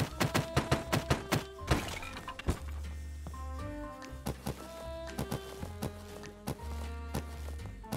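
Repeated heavy thunks of blows against a storage box in the Tribals.io survival game, a rapid burst of loud strikes followed by steadier, spaced impacts over a low droning tone, with no talking.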